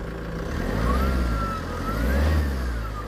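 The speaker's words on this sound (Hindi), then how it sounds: "फिर आपको इसका साउंड सुनाते हैं इंजन का।" A 10-year-old Tata Safari 2.2 VTT Dicor diesel engine revved up twice, rising and falling with a steady mid-pitched drone, heard up close and alone.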